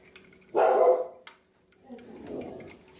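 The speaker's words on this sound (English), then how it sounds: "there goes the dog barking again" A dog barks in a home kitchen during cooking, one loud close bark followed by a softer, rougher bark or growl a moment later, with quiet between.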